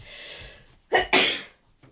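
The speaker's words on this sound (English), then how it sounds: "I'm going to sneeze." A single sharp sneeze from a person crafting indoors, with a quick inhaled gasp leading into a loud explosive burst, followed by a faint breath after.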